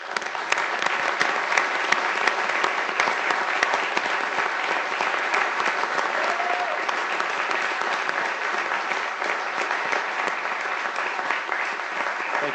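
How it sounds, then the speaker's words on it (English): Steady, dense round of applause from attendees at a Sioux Falls city council meeting, continuous and even for about twelve seconds with no talking over it. "Let's give the guy a round of applause."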